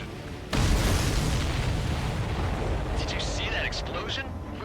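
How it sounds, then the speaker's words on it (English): A sudden, loud blast in the Ace Combat 7 video game erupts after a moment of quiet, then rolls on as a sustained, roaring rumble that eases only slightly, with faint higher crackles and tones late on. "Did you see that explosion?"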